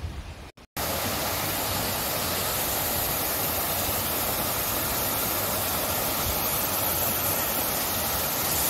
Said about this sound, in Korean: 계곡이라서 물이 흘러가고 있어요.